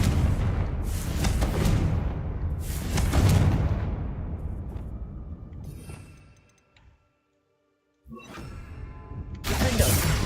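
A Confringo fire spell explodes in Hogwarts Legacy: repeated booming blasts with crackling, shattering debris, dropping to near silence before a fresh burst of rumbling explosions returns.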